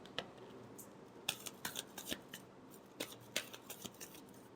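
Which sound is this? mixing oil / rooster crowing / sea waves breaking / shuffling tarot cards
shuffling tarot cards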